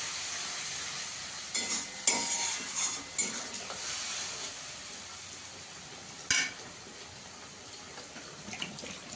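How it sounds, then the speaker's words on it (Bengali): Spice paste of turmeric, cumin and coriander powders is sautéed in a pan for fish curry, giving a low steady sizzle broken by a few sharp scraping stirs and clinks, close by and without speech. "মশলাটাকে ভালো করে কষিয়ে নিতে হবে।"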